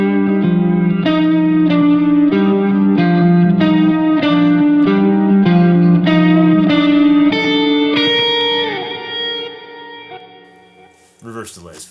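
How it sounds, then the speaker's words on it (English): Electric guitar through a Line 6 Helix with reverse delay plays a slow repeated chordal phrase, each note swelling in with a washy, reverberant tail, loud and up close, then decaying into a fading wash and a brief scrape at the end. "Reverse delay is fun."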